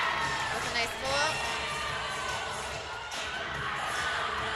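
Spectators roar and cheer at a cheerleading championship, a dense, continuous crowd noise with high shouts and whoops rising over it, loud and sustained throughout.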